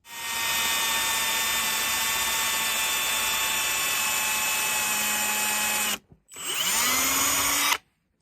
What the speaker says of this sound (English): I want to drill the pilot hole in the back piece